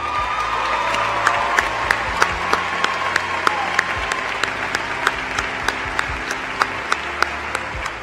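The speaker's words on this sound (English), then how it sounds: "Will you and your parents please stand to our applause?" An audience applauds a graduate and family at a Florida Atlantic University graduation ceremony: sustained, fairly loud clapping with a few sharper claps standing out near the end, no speech over it.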